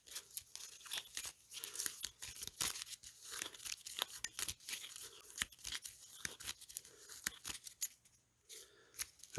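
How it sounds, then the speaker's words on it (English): Playing cards being shuffled for a tabletop board game, a run of crisp riffling and snapping bursts over several seconds, close and fairly quiet with no talking. "we shuffle the set-aside and any discarded cards and place them on the bottom of the deck"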